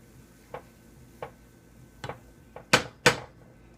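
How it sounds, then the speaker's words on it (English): Metal lid and spoon on a pot of tomato bisque set to simmer on low heat, a few light clinks and taps followed by two louder clanks as the lid settles, close and with no talk. "Put a lid on this. We'll give it one last stir."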